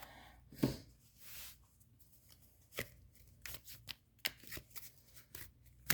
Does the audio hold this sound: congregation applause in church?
no